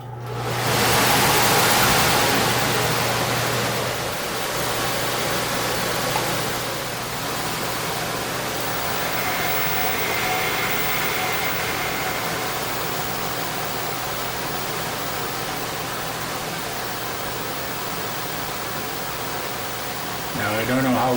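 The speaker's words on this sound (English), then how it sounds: "Now I don't know how well you can hear me above the noise of that fan" A fan runs loudly and steadily as a broad, even rush of air with a low hum beneath, continuous from start to finish, with a brief clunk near the end.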